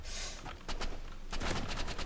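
Shotgun blasts in the Roblox game Rivals, fired from a skinned shotgun: a few sharp bursts in quick succession with a dense crackle of game effects, no one talking.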